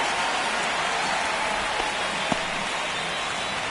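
Steady rain pours down on a baseball stadium in MLB The Show 25, a dense, even hiss holding throughout with one faint thud partway through and no voices.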